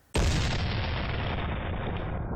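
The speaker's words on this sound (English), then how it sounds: "Think about the sound that the cannon makes" A single loud cannon blast bursts in abruptly, then a broad roaring rumble hangs and slowly decays with no voices.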